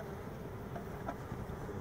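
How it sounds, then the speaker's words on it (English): Honeybees buzz in a steady, dense drone during installation of a package into a hive, forming a faint, continuous hum with no speech. "whatever bees don't come out of the box, you set the box toward the front of the hive"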